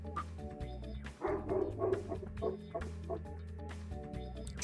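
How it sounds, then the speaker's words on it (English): A pet dog barking in the room during a Spyro 3 randomizer livestream, repeated sharp yaps under game music and effects, mixed with clucking fowl sounds from the game. "my dog is really distracting me"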